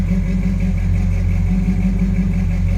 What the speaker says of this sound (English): Listen to that rumble